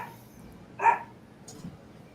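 A dog gives a single short bark in a live podcast setting, moderately loud against quiet room noise, followed by a faint smaller sound.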